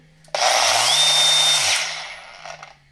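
A DeWalt DW4324 angle grinder switches on with a sudden loud whine, runs steadily for about a second, then winds down and stops, heard up close with no talk.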